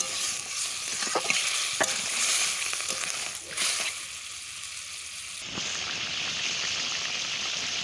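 Bowl-rinsing water laced with spices splashes into a frying crab curry, setting off a loud, hissing sizzle with bubbling and stirring before it settles into a steadier simmer-like hiss.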